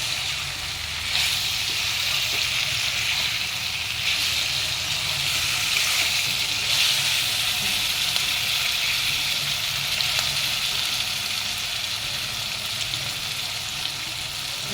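Masala spices cooking in oil with gram flour for a drumstick besan curry, giving a steady, even sizzle and frying hiss throughout, close and moderately loud with faint stirring scrapes.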